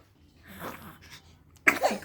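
Indoors at home, a girl with a cold breathes and sniffles softly, then lets out one sharp, close sneeze near the end.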